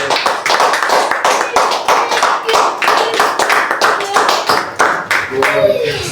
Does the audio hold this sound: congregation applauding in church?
yes